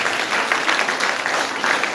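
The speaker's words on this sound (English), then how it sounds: "A round of applause for him, please." Audience applause at a school Independence Day inter-school competition valedictory ceremony, a steady, dense wash of clapping from a crowd lasting the whole moment with no talk over it.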